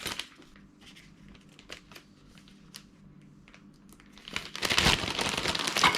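Crinkling plastic packaging of shishito peppers being cut open in a home kitchen, with soft rustles and small snips building to a louder, dense crackle of plastic near the end; no speech.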